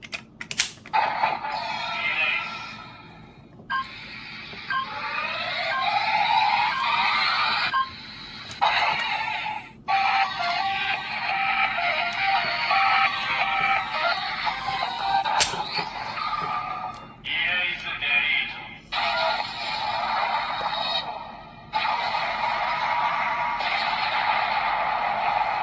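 Electronic attack sound effect from a Japanese villain transformation toy driver fitted with the Erase capsem: a dense, bright burst of synthetic noise and clicks running for about 25 seconds with brief dropouts, loud and steady throughout.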